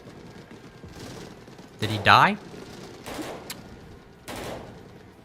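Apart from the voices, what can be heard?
rifle gunshots from Dies Irae video game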